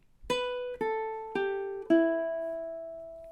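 Four plucked ukulele notes ring out one after another at a steady pace from measure 29 of the Jamaican folk song Day-O, the last note held and fading, close and clear.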